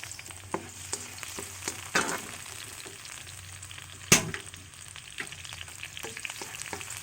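Onion and tomato sauté in a pan for ginisang mongo, a soft frying hiss under occasional spoon scrapes and taps, with a louder clatter partway through, fairly quiet and close, with no talk.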